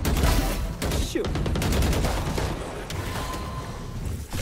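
Rapid gunfire in the tactical shooter Valorant, dense bursts of shots and sharp cracks layered loudly for several seconds, with a faint voice briefly underneath.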